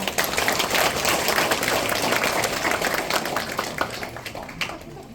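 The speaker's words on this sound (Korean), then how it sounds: "큰 박수 부탁드립니다" Audience at a Saemaul association chairman inauguration ceremony in Jung-gu, Daejeon applauds an award plaque presentation with dense, lively clapping that holds strong, then thins and fades toward the end.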